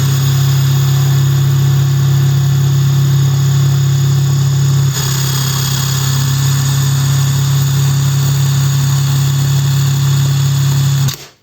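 A SHIDOKU G-1000 cordless 1000 Nm impact wrench spins freely at maximum speed, a loud, steady, high-pitched motor whine held close and unbroken for about eleven seconds before stopping sharply.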